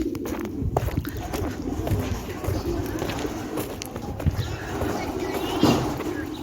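Pigeons cooing outdoors in Saudi Arabia, a low, soft, repeated cooing amid busy farmyard noise with animal movement and distant voices.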